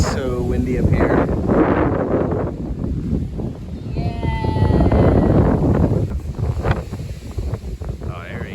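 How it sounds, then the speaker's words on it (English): Strong gusting wind on a mountain top along the Appalachian Trail in Shenandoah National Park buffets the microphone loudly and continuously, with voices talking over the roar. "It's so windy up here."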